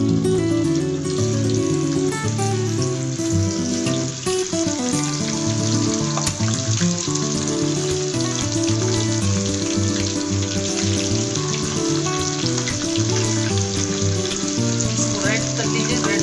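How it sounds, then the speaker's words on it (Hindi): Chicken frying in a hot pan with a little oil, giving a loud, dense, continuous sizzle and crackle that fills the whole stretch without voices. "पैन गरम कर लीजिए, उसमें थोड़ा सा ऑयल डाल दीजिए और ये चिकन फ्राई करेंगे।"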